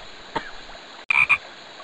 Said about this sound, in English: It's mating season and Fernando Frog has to sing to attract the females.